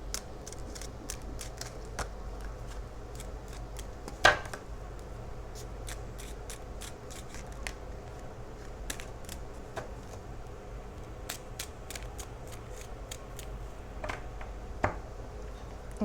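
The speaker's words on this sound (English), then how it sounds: "Now I'll do 3 shuffles just to get your overall energy." Soft, steady riffling and flicking of tarot cards being shuffled, with occasional sharper snaps, quiet and close with no talking.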